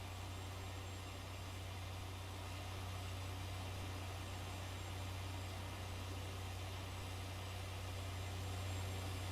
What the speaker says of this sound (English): How good does this tractor sound?